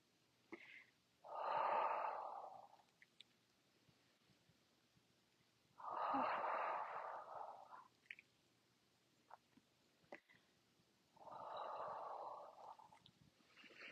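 Three slow, controlled breaths, each a soft airy exhale lasting over a second with quiet gaps between, from an exercise class breathing together in a low, even rhythm.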